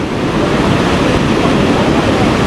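Heavy water rushing and crashing at a spillway where fish are being caught, a loud, continuous broadband roar of churning water and spray that holds steady throughout, close and dominant.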